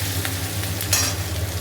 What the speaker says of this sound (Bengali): এবার ভালো করে ভাজা হোক।